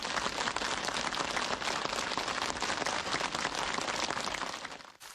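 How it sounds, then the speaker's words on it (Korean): Dense, enthusiastic applause from a crowd of participants at an award ceremony in Pyongyang fills the space steadily, then cuts off abruptly at the end. "참가자들의 열렬한 박수 속에 수여되다"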